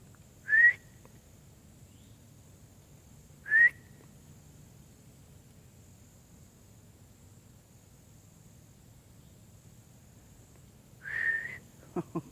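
A person whistles outdoors in the Florida highlands, three short rising notes spaced well apart over a quiet background hum, fairly close and alone without talk.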